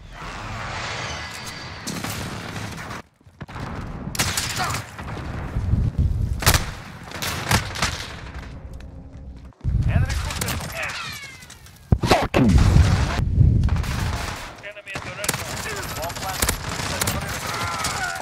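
Bursts of gunfire from the video game Modern Warfare, with loud overlapping shots and heavy booms in irregular clusters, mixed with players talking throughout.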